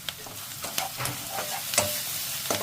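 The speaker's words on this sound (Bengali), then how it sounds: "কাঁচা গন্ধ দেওয়ার জন্য একটু ভালো করে ভেজে নিলাম।" Onion paste and ginger-garlic paste fry in oil for a turmeric-free rohu fish korma, a steady close sizzle broken by repeated scraping stirs of a spatula, with no talk.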